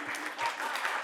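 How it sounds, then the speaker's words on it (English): Live storytelling audience breaks into a brief burst of dense clapping, steady and moderately loud for about a second. "Come on, clap it up."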